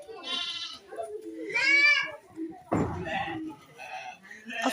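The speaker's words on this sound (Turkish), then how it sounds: "Koyunlar, kuzular." Sheep and lambs bleating in short wavering calls close by, mixed with people talking over and between them.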